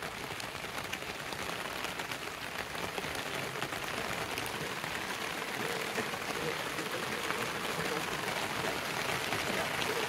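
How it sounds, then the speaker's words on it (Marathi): Heavy monsoon rain in rural Konkan pours steadily near a village cattle shed, a dense, even hiss with no break. "पाऊस आता आलाय जोरात."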